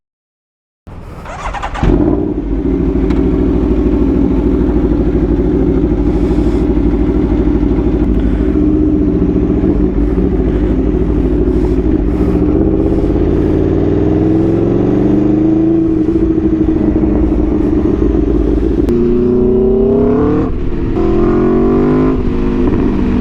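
An Aprilia Tuono V4 motorcycle fitted with a new exhaust fires up from cold, then settles into a loud, steady idle with a few rises in revs near the end.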